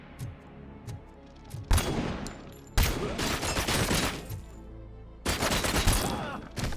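Heavy gunfire in RoboCop: Rogue City, bursts of rapid shots in three loud volleys with brief lulls between, sharp reports dense and close.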